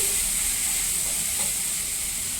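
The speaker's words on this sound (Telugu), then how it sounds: "బాగా వేగిపోయినాయి." Gunta ponganalu made from dosa batter fry in a pan, giving a steady, dense sizzle and hiss close up with no talking.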